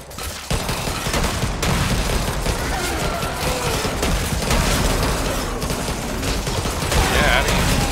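Pistol turrets fire at zombies in the game Yet Another Zombie Defense, a dense continuous fusillade of rapid overlapping shots and impacts, loud and busy throughout.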